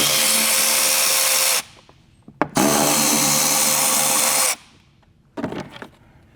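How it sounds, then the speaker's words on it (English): Bursts of a power tool driving a 10mm socket to remove plastic nuts from an access panel on a B48-engined Mini: two sustained loud whirring runs separated by silence, then a shorter uneven burst. "Now we'll use a 10mm to remove these plastic nuts."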